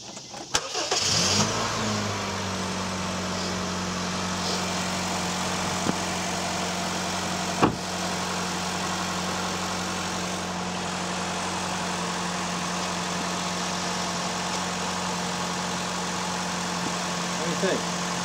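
A 2012 Honda Fit with a 1.4L engine cranks briefly and catches, then settles into a steady, even idle that runs on loudly and close, with a few faint clicks over the hum.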